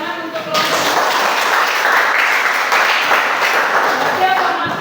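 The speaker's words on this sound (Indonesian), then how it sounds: "Tepuk tangan untuk kelompok." Classroom students applauding a presenting group, a steady wash of clapping from many hands lasting several seconds, with voices briefly heard at the edges.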